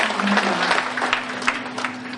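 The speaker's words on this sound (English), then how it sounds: "Can we now give our graduates a very big round of applause?" Applause for graduates at the 2019 CAP College Foundation graduation ceremony, a steady wash of clapping from the audience with a faint steady hum underneath, lasting a couple of seconds.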